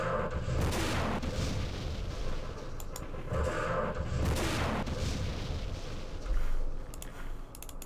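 Artillery fire in a Vietnam War strategy game set in Binh Long: deep booming blasts and rolling rumble repeat every second or two, with a few sharper cracks toward the end.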